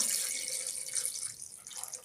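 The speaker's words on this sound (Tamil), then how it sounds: "கறி முங்குற அளவுக்கு நம்ம தண்ணி ஊற்றிக்கலாம்" Water is poured into a pot of mutton pieces for mutton chukka, producing a steady, close, hissing splash that runs unbroken throughout.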